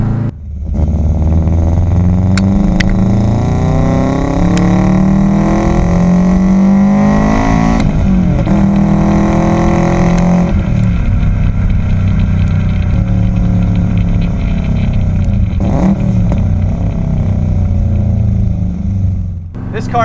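Engine of a 2001 WRX-swapped Subaru Impreza L coupe with a stage 2 tune and full exhaust, a loud steady drone with rising and falling revs across the whole stretch, heard continuously and close.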